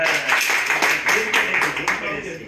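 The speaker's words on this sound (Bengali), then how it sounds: "যারা আরাম পেয়েছে তাদের হাততালি দেন।" A group claps together during an energizer game at a training session, a brisk burst of hand claps mixed with a voice talking over them.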